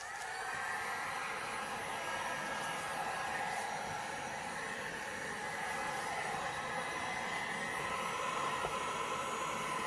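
Heat gun blowing steadily on the middle of a large sculpted black, white and gold resin bowl platter, a constant airy rushing hiss with no pauses, fairly quiet.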